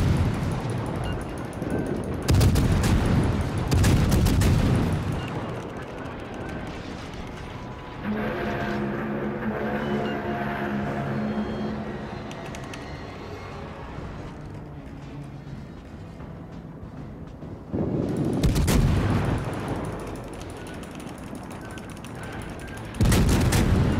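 Naval cannon fire from the cruiser USS Atlanta in World of Warships, heavy loud salvo bursts at the start and end with a quieter rumbling stretch of distant battle noise between them.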